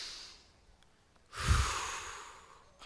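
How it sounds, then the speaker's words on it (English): A crowd gathered for a high school graduation ceremony takes a single deep collective breath, a soft broad rush of air that swells suddenly after a quiet pause and then slowly fades away. "Breathe."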